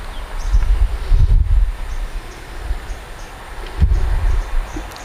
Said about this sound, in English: Actually today quite windy.